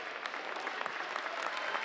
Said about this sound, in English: as the entire gymnasium applauds